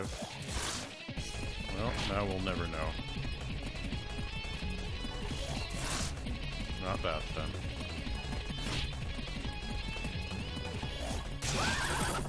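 Fire horse neighing in Digital Devil Saga 2, loud repeated whinnies with crashes and hoof clatter over dense game music and effects.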